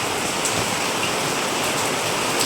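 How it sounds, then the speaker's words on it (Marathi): Heavy rain pours steadily over a market in Rajapur, Konkan, early in the morning, a dense continuous hiss with scattered drop impacts and no voices. "पावसाला पण जोरच आहे कालपासून"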